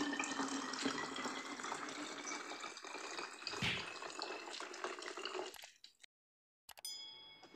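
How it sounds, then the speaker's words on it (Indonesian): Three hundred millilitres of water poured into a laundry perfume mixture, a steady splashing trickle with faint clinks of the container, close up, then a brief silence and a final light clink. "Untuk air, nih 300 ml, kita masukkan."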